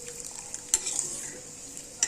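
Sugar water boiling in a pan while making kesari gives a steady, bright bubbling sizzle close by, with a couple of faint clinks from a utensil against the pan.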